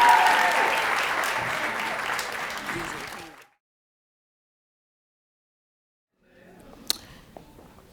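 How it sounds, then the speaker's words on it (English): An audience claps for middle grade educators at a university education pinning ceremony, a full, steady round of applause that fades out after about three seconds, followed by silence and a few scattered noises. "Please give all middle grade educators a round of applause"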